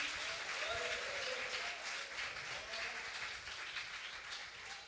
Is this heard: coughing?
no